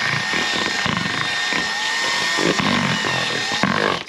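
A power drill with a paddle mixer whirs continuously at close range, its motor pitch wavering slightly as it churns a thick drywall compound mixture.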